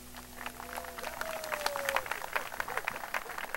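An audience at a singing festival semifinal applauds a singer, scattered clapping under a presenter's voice.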